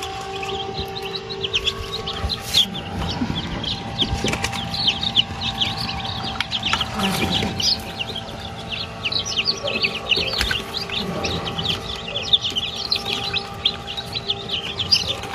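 A crowd of freshly hatched Rhode Island Red chicks being gathered out of an incubator, dense continuous high peeping and chirping close by, with occasional handling rustles and thumps underneath.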